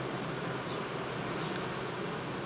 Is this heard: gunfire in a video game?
no